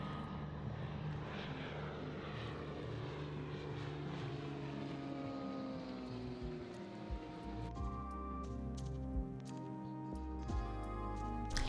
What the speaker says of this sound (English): save for the occasional plane at the nearby airport